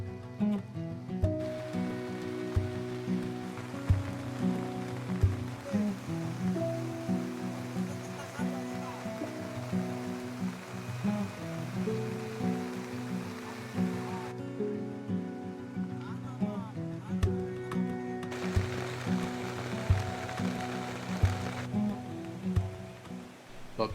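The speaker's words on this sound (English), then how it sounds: "the heavens opened and the rain poured down" Heavy rain pouring down beside a swelling river at a jungle camp in Sumatra, a dense continuous wash of rain under steady music with a brief quieter stretch midway.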